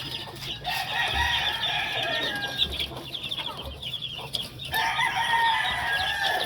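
A rooster crows repeatedly among backyard pet chickens, its long calls loud and close over steady clucking and flock chatter behind a house.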